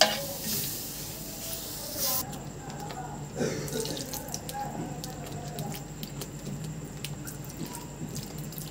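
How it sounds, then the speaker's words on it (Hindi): Milk is poured little by little into fried flour and stirred with a spoon for a vegetable white sauce, giving soft liquid stirring and light sizzle, quiet and close. "थोड़ा थोड़ा दूध डाल के इसका सॉस बना लूँगी"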